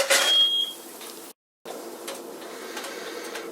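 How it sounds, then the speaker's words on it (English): Kitchen smoke detector set off by heat from an omelet pan: a sharp, loud electronic beep at the start, then a short drop to silence followed by quieter room noise. "fire smoke detector went off. It's way too damn sensitive."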